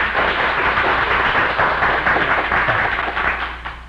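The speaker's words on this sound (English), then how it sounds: "Let's give him another applause." An audience applauds during a speech at a historical society gathering, a dense, loud, steady wash of clapping with a slightly rough, noisy quality that tapers off near the end.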